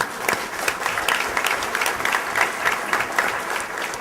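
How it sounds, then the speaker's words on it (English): An audience at an economic summit breaks into loud, sustained applause, dense overlapping claps throughout with no voices over them. "yes, that deserves an applause."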